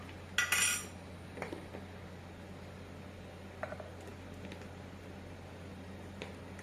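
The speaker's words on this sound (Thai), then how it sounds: "เราก็เริ่มคลุกเคล้าให้มันเข้ากันเลยนะคะ" Metal utensils mixing a som tam papaya salad dressing of seasoning powder, sugar and fish sauce give a few quiet, sparse clinks and scrapes, with one brighter clatter near the start over a low background hum.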